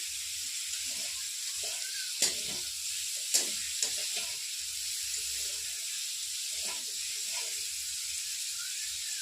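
Steady sizzling of food frying in hot oil, with a few sharp pops and crackles and light scraping from stirring.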